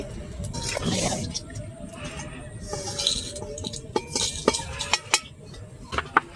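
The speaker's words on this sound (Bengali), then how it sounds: "আমি হামাল দিস্তাতে ঢেলে নিচ্ছি" Roasted cumin and dried red chillies tip into a mortar and pestle with light clinks and rattling taps, scattered knocks growing sharper toward the end, while a person talks.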